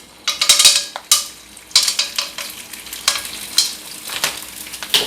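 Eggplant frying in a new pan over a small, hot flame, with scraping stirs and sharp bursts of sizzle coming in irregular waves close by.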